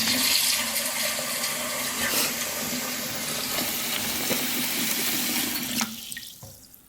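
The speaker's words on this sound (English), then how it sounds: "just take your pot that you used and fill it with water" Water runs steadily from a kitchen tap into a cooking pot used for homemade sugar wax, a continuous close gushing fill that cuts off near the end, leaving a quiet tail.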